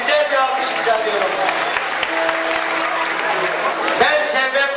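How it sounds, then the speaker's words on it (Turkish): Crowd applause at a village youth-branch music festival in Ormanözü, a dense steady wash of clapping lasting several seconds over music with sustained tones and a few sharper beats. "Güzel bir alkış rica ediyorum."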